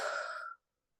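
A single deep exhalation during a 4-7 breathing exercise, close and soft, a breathy rush lasting about half a second and then silence.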